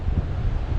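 Southerly wind buffets the microphone on an exposed, uninhabited island shoreline, a constant low roaring rumble with gusty pulses and possible surf beneath, loud and unbroken, with no voices.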